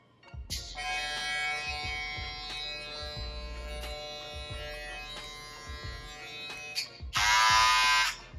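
Stylecraft Mythic hair clippers switched on and running, a steady high electric buzz with faint clicks and handling noise, ending in a louder burst of buzzing up close.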